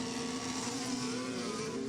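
Formula 1 car revving at the 2023 British Grand Prix during second free practice, building RPM for a practice start; a steady, distant engine drone holds at a constant pitch under crowd and ambient noise.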